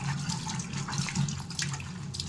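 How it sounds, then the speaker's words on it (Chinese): Running water splashes in a sink while dishes and pots are scrubbed with a fruit net sleeve, a steady close wash of water with soft irregular rubbing. "我们可以用它来洗碗刷锅"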